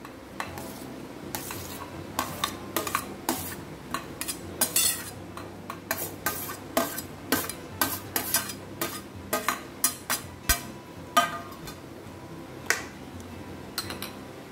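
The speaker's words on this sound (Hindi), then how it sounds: "तो अब इसमें डालते हैं सारे फ्रूट्स, बनाना, मैंगो, एप्पल।" Banana, mango and apple pieces are dropped into custard and stirred, producing a steady series of soft clinks, taps and wet stirring sounds from a spoon against a bowl, close and clear with no talk.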